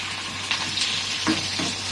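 Curry leaves fry in hot oil with a loud, close crackling sizzle that flares in short bursts across two seconds, and no voices.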